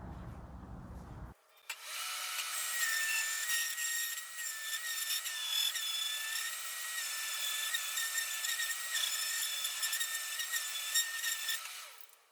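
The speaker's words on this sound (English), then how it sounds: "just hit them with the sander" A power sander grinds dried wood filler off dirty metal scrapers, starting abruptly after a brief lower rumble and running loud and continuous with a bright, whining tone for about ten seconds before cutting off.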